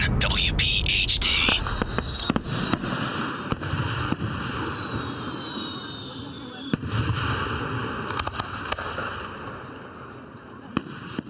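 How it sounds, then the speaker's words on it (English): Fireworks in the Delaware Valley over the Delaware River burst in a string of sharp pops and crackles, with a whistling launch early on. They sound moderately distant against a steady background. "Some of the fireworks that are going to go off this weekend around the Delaware Valley and over the Delaware River"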